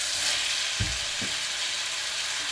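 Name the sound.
lamb keema mince sizzling as it cooks in pan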